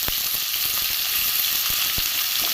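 Chopped vegetables (brinjal, radish, kohlrabi, cauliflower, green tomato and beans) fry in a pan for a mixed vegetarian curry. A loud, even sizzle runs throughout, broken by a few sharp crackles, close up with no voices.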